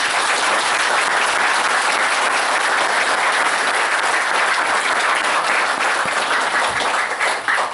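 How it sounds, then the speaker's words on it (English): Audience at a lecture by the Ooni of Ife applauds steadily, with dense, continuous clapping that stays loud and even throughout, swelling slightly in the final seconds and free of speech. "I am not satisfied with that round of applause."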